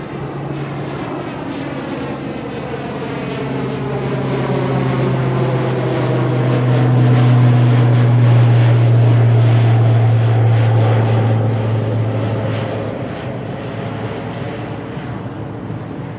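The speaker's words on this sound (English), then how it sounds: "This ATR is heading to Palmerston North." An ATR turboprop airliner at Auckland airport passes with a deep droning propeller hum that rises to a loud peak midway and then fades, heard alone in open outdoor air.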